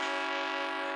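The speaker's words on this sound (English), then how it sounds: "Throw in the train horn noise." A train horn sound effect blares as one loud, steady, chord-like blast that stays flat and constant for its full short length, with nothing else heard.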